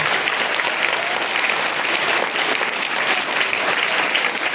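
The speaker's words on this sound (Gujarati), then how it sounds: "આપણે બાપુને જે છે એ જોરદાર તાળીઓ પાડી અને સ્વાગત કરીએ છીએ" Loud, steady applause fills a school hall as a crowd claps to welcome a guest at a Guru Purnima celebration, dense and continuous throughout without pause.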